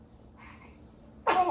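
A baby's sneeze bursts out once near the end, sudden and fairly loud, after a quiet stretch with faint adult murmuring beforehand.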